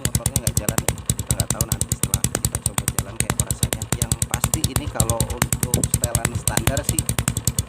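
Yamaha Scorpio motorcycle engine fitted with an aftermarket IND manifold, warming up at a steady fast idle with a dense, regular pulsing exhaust beat, close and loud, with a voice talking faintly over it.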